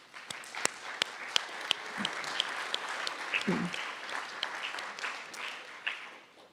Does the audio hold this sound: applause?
yes